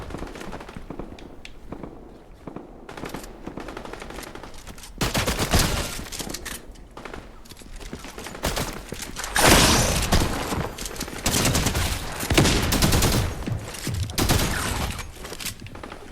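Rapid automatic gunfire in a SWAT shooter game, loud volleys and bursts that come and go over sixteen seconds, with the heaviest barrages midway and near the end and no talk over them.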